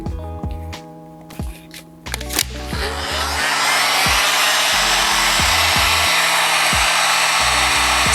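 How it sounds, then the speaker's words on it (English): A heat gun blowing on vinyl kayak graphics, first a few sharp knocks and clicks, then a loud, steady whooshing roar that builds and holds close up to the end, with no talk. "Take our heat gun,"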